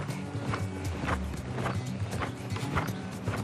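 Repeated hoofbeats of a horse loping in circles around an arena, a steady three-beat clip-clop rhythm that stays close and fairly loud with no talking over it.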